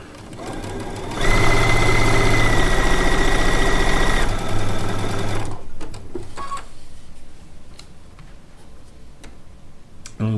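A sewing machine runs steadily for about three seconds, loud and close, stitching charm pack quilt pieces with short stitches, then slows and stops, leaving faint workshop handling noises.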